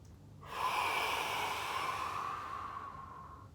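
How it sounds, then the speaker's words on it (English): A person breathes steadily in and out during a pilates exercise, one long, soft, close airy exhale that fades gradually. "breathing out, breathing in, and breathing out"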